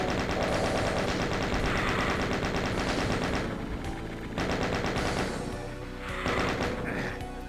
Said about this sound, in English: Oh, chain gunners in the watchtower here.